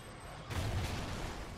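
A canister bomb bursts in Call of Duty Ghosts Extinction mode, a sudden loud blast with a low boom that rumbles on and fades slowly, with no talking over it.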